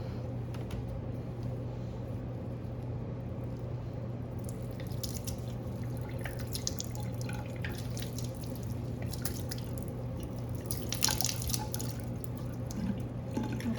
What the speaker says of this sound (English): I'm actually gonna rinse off this spoon because we're gonna use it later.